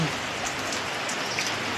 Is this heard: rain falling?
yes